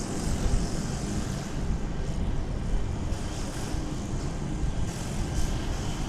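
Jet airliner, a Boeing 737-800, rumbling at DFW Airport in the early morning, a steady broadband engine roar heard from a distance with slight swells, no talking over it.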